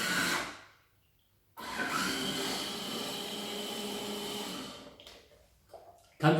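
An electric citrus juicer whirs steadily for a few seconds while juicing a lemon, set between brief handling noises and a short pause.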